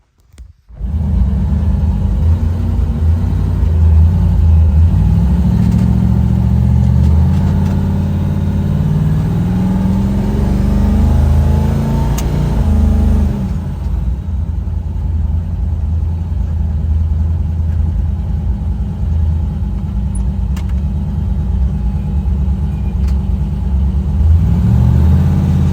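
Car engines run steadily with a low rumble as the cars are driven out of a repair shop, idling and lightly revving close by without pause.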